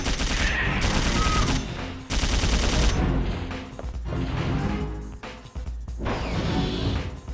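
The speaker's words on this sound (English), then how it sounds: "since we have the dual submachine guns, they're a little easier to deal with" Rapid bursts of dual submachine gun fire in the video game Dino Crisis 2, loud sustained volleys broken by brief pauses, with crashing impacts mixed in.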